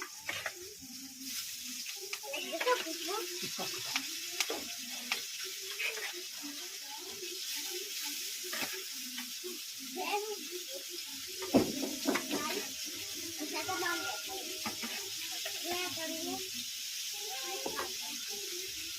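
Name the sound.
fish frying in a pan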